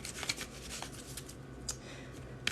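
Tarot cards being shuffled by hand: soft, quiet papery riffling and flicks with a few sharper snaps, close-up and continuous.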